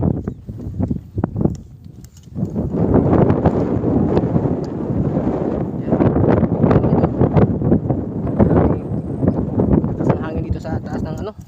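Strong wind gusts across Laguna Lake, where the water is clogged with water lilies, buffeting the microphone in a loud, steady rumble while someone talks over it.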